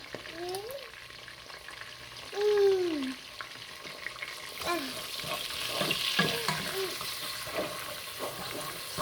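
Eggs scrambling and frying in a pan, a close, steady sizzle with stirring scrapes, while someone talks over it.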